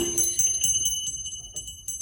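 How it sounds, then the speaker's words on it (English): Authentic antique sleigh bells once worn by horses, shaken in a few quick bursts of bright metallic jingling, close and fairly soft, with ringing tones lingering between shakes. "And I've got some sleigh bells, and these are authentic sleigh bells that were on my grandfather's horses."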